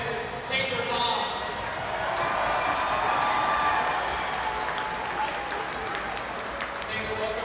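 Arena crowd at a Utica City FC indoor soccer match applauds and cheers steadily for new player Taylor Bond, a dense, sustained wash of clapping filling the whole stretch with scattered whoops, no talk on top.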